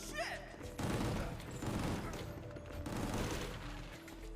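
Gunfire in the video game Gungrave G.O.R.E, a close burst of rapid shots followed by further volleys with heavy thumps, loud and dense over game background sound.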